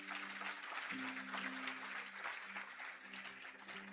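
Dense, steady congregation applause fills a church service, with sustained low keyboard or organ tones held underneath the whole time.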